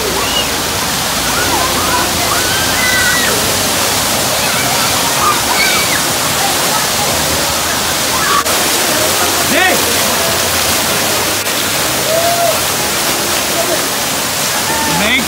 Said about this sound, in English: We are on the lazy river!